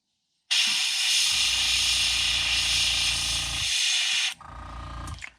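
An airbrush or spray gun paints a crankbait fishing lure through a stencil in a loud, close, continuous hiss of about four seconds, with a compressor hum underneath, then a shorter, quieter burst follows.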